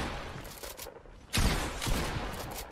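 Gunfire in a Fortnite match, a steady burst of shots with a sharp louder volley midway, close and continuous without speech.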